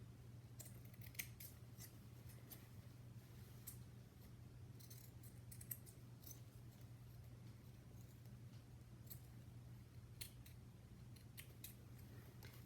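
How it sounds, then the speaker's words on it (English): Scissors snip off excess craft material for an Easter book, a series of short, sharp cuts spread across a quiet background with a steady low hum. "And we'll cut off what we don't need."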